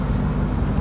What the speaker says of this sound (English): Give it a rev, bro.